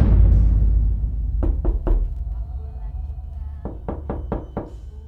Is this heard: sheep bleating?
no